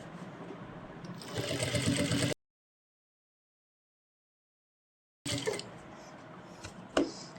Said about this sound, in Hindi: उसके ऊपर ही हम काम करेंगे, सिलाई लगाएंगे